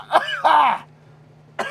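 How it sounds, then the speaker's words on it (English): Two quick throat clears, a short cough-like burst and a brief groan come from one person nearby indoors, with a pause and then another short vocal burst. "Oh, coughing!"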